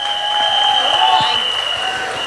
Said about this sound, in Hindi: ताली बजा के दिखा दीजिए.